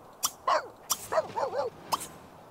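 A dog in The Sims 3 video game barks in short bursts, about four or five sharp yelps and barks spread across a couple of seconds, fairly close and alone without talk.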